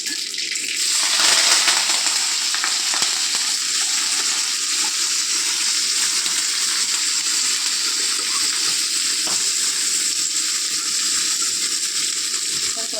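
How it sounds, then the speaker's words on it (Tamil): Chopped onion, green chili and curry leaves frying in oil with cumin and mustard seeds, a close, steady hiss and crackle of sizzling that runs unbroken throughout. "நம்ம அதில் இந்த வெங்காயம், பச்சை மிளகு, கறிவேப்பிலை போட்டுக்கலாம்"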